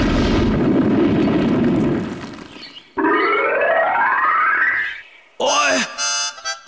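A cartoon explosion from Oggy and the Cockroaches as luggage is blown up: a loud, rumbling blast followed by rising whooshing sweeps and a final burst of zany sound effects.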